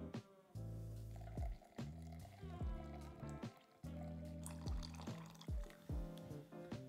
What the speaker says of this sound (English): you want to add the rest of the water.